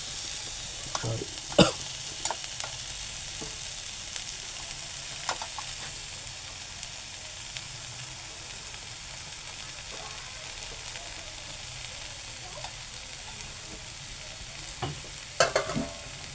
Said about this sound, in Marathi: थोडी थोडी टाकू जेणेकरून जी आपली फोडणी दिलेली आहे कांदा आहे तो लागेल आणि परतून घेऊ